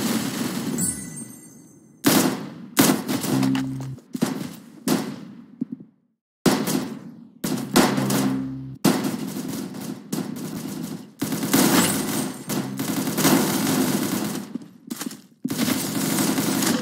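Gunfire in the Roblox game Arsenal: loud, close bursts of rapid automatic shots with sharp starts and stops, several volleys separated by brief silent gaps, and no voices.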